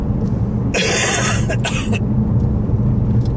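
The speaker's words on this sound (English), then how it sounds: "I've got a really bad cough" A single harsh cough, split into two quick bursts, rises above a constant low rumble of background noise.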